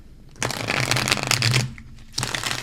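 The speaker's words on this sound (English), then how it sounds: "Let's get one more good shuffle in there." Tarot cards being shuffled up close, a dense papery riffle and flutter lasting about a second and a half, then a brief pause before more shuffling.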